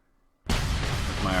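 Artillery fire in the Civil War strategy game Gettysburg: The Tide Turns: after a near-silent moment, a sudden loud blast erupts into a sustained, rumbling roar that holds to the end, with a voice talking over it.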